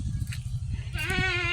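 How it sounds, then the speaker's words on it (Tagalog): A goat bleats loudly nearby, a wavering cry rising over a low rumbling engine-like background. "Yung mga kambing namin."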